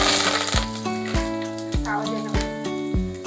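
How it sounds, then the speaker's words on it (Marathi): Curry leaves crackling in very hot oil during a tempering, following mustard seeds, for a Malwani-style usal; a steady sizzle runs under repeated thuds of the pan and spoon, fairly close and moderately loud. "कढीपत्ता"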